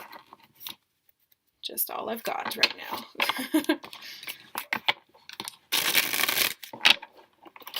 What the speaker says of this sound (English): I'm sorry if it's a little bit loud when I shuffle.